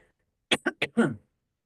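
A short, close burst of four quick coughs, the last one slightly longer and rougher, with silence before and after.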